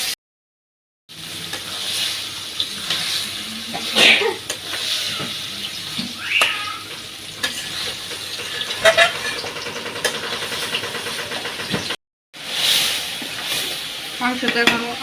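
Meat being stir-fried in a pan, sizzling and scraping under intermittent clatter, with short gaps of silence, brief metallic knocks and a sputtering burst of frying near the end; a voice is faintly present.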